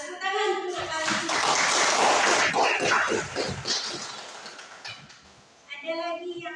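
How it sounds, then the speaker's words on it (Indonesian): A classroom group breaks into applause, a thick burst of clapping framed by a voice speaking before and after it, the clapping swelling and then tapering off. "tepuk tangan untuk kalian"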